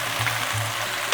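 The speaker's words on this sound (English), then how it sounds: "We stir this up." Food is stirred in a frying pan where a roasted garlic herb butter puck is melting, giving a soft, brief sizzle with a few light scrapes.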